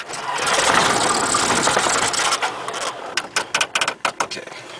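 A Cessna 172 piston aircraft engine cranks and runs loudly at first, then stutters into uneven sputtering bursts and dies away toward the end.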